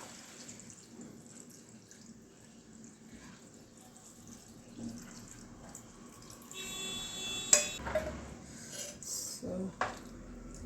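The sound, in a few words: pouring fresh homemade coconut milk into curry paste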